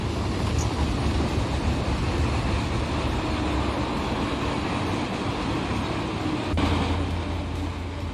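A 4,500-foot BNSF freight supply train from Barstow runs in the Run 8 train simulator game, producing a constant heavy low rumble with dense wheel and rail noise. A single sharp click sounds near the end.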